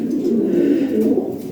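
A male Lahori pigeon coos in a steady, continuous low throaty rumble, close and fairly loud, with no talking.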